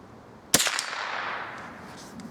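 A single sharp crack from a .22 rifle firing CCI Blazer ammunition at a target, standing alone with a brief decaying ring afterward and no talk.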